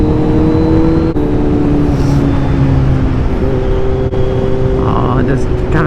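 Motorcycle fitted with a Leo Vinci slip-on exhaust, a steady loud engine drone with gear-shift dips while riding, heavy wind rumble throughout.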